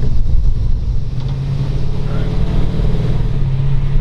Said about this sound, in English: Take around the parking lot here, show you it drives.